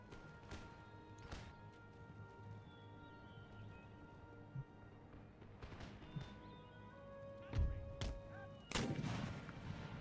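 Enemy mortar fire in Empire Total War on a battlefield near a wall, scattered distant thuds through the clip, then two sharper, louder blasts near the end over a steady background of battle noise.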